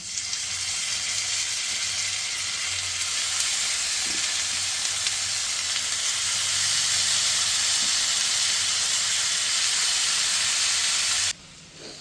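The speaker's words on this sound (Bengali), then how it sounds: "এক চামচ সর্ষে তেলও দিয়ে দিচ্ছি তাহলে এবার পনিরটা বসিয়ে দিচ্ছি" Paneer sizzling in mustard oil on a stovetop, a steady bright hiss of frying that swells slightly midway and cuts off abruptly near the end, with no talk.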